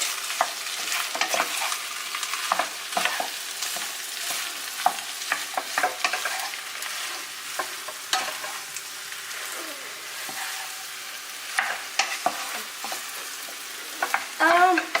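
A potato mixture is stirred as it fries in a pan, a steady sizzle under repeated scraping and clinking of a spoon against the metal, close and continuous without speech.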